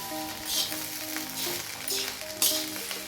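Basmati egg fried rice being stirred in a hot pan after soy sauce and a little vinegar are added, a steady close sizzle broken by several sharp scraping bursts of stirring, with a faint tonal hum underneath.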